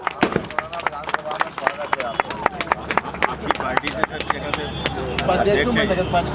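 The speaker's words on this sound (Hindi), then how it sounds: "ऐसे विधायक के लिए एक बार फिर से जोरदार तालियां" Clapping at a community association gathering in Morena in honour of a legislator, sharp irregular claps rising into a fuller burst of applause near the end, with voices murmuring underneath.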